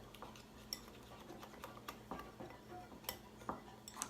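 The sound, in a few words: stirring melted coconut oil and chocolate in a pot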